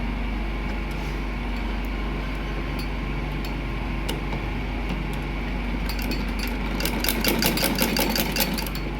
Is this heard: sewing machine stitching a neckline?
yes